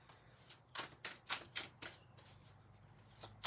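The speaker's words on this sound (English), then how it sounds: "3 more shuffles" A deck of tarot cards is shuffled up close, with a handful of crisp riffling bursts in quick succession, quiet and with no voices.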